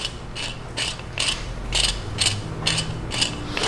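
Threaded cap of an HDM 1050 Protector being unscrewed, with a spring under tension inside: a series of close, crisp ratcheting clicks in a steady rhythm, roughly eight bursts over a few seconds, with no talk.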